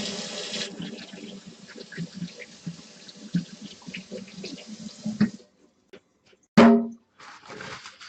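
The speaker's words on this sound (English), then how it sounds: "Now I gotta rinse my hands off again." Hands rinsed under a running kitchen tap while sculpting modeling chocolate, steady close water flow with rubbing splashes for about five seconds, then the tap shuts off, followed by a short loud knock and faint later rustling.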